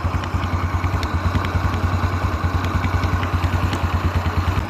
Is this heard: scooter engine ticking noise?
yes